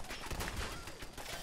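Rapid gunfire bursts in Fallout 4 VR, dense overlapping shots sounding close and steady across the moment, with no speech.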